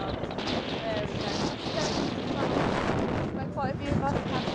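Wind blasting over a van's open sunroof on a farm lane, a constant rough rumble and buffeting across the whole stretch, loud against the microphone with no clear voices.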